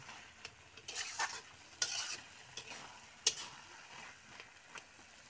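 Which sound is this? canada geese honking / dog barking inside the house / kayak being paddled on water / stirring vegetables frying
stirring vegetables frying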